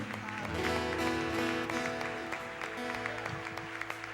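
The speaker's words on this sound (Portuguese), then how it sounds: "Aplauda o Senhor, exalte o nome do Senhor." At a Tuesday evangelical worship service, the congregation claps along over ongoing music, a steady wash of hand claps mixed with sustained tones and some voices.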